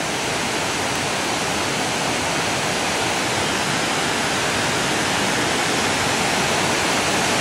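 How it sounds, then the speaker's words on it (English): River water churns at a waterfall drop-off of roughly 75 to 80 feet, a steady, loud, dense roar with no breaks, heard from close to the cliff edge, without voices. "That water is churning."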